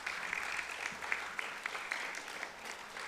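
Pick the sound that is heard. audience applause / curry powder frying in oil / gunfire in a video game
audience applause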